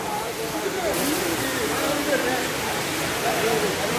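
Steady rushing of water at the Courtallam waterfall, flowing again after rain, a continuous broadband roar filling the scene with no break.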